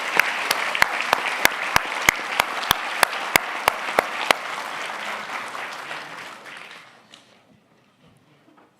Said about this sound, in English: A round of applause for Clint Smith and Nick Mueller, please.